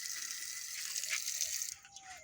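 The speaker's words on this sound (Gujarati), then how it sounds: "પાણી બી પડે છે મિત્રો।" Tap water runs steadily at a temple hand-washing area, a continuous splashing hiss that drops away near the end, leaving faint drips and background noise.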